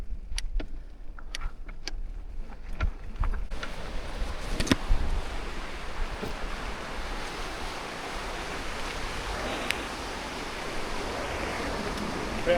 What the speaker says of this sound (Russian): Эсселях речка.